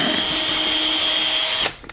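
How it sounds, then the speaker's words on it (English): Drill spinning a chisel-pointed wire bit through a wall of plywood, tar paper and cedar shakes, a loud steady high whine close by that runs continuously, then winds down abruptly with a brief clunk. "drill through on my side-to-side"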